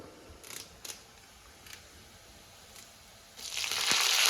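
Cumin seeds and curry leaves dropped into hot oil, a few light clicks and taps and then a sudden bright hiss of sizzling rising near the end, close and without talk.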